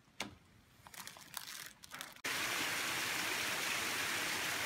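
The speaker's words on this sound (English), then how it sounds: "We just left the Mountaineer Shelter and come across this very nice waterfall." Mountaineer Falls, a waterfall on the Appalachian Trail, roars as a steady, loud, broadband rush that fills the second half, preceded by softer crinkling and footstep-like rustles.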